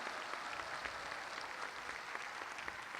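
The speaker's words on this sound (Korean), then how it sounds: "박수." Sustained audience applause from a large congregation at a celebration by Cheongpyeong Lake, a dense, even wash of many hands clapping at steady loudness throughout.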